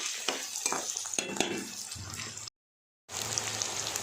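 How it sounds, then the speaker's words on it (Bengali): Ginger, garlic and chilli sizzle and spatter in hot oil, with a few scraping stirs early on and a steady close frying hiss that cuts out briefly before resuming. "ওই তেলের মধ্যে দিয়ে দেবো আদা, রসুন কুচি, লঙ্কা কুচি, এগুলো ভাজা ভাজা হয়ে গেছে"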